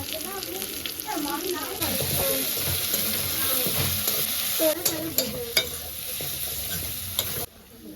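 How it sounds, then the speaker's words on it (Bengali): Chopped chili, turmeric and chili powder frying in a pan, a steady loud sizzle with stirring scrapes and a few sharp knocks of a utensil, ending abruptly. "দিয়ে ভালো করে কষিয়ে নেব দিয়ে দেবো হলুদ গুঁড়া দিয়ে দেবো লঙ্কার গুঁড়ো"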